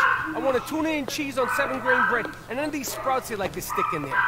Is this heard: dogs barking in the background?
yes